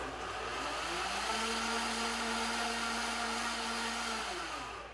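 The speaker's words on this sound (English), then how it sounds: "then you're going to turn the blender back on again for just a little bit." A blender motor whirs steadily for a few seconds while mixing creamy dill salad dressing, its hum rising slightly in pitch and then easing off, close by and with no talking.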